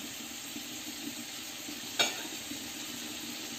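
Salmon frying in a pan gives a soft, steady sizzle throughout, quiet and close, with one brief sharp pop or clink near the middle.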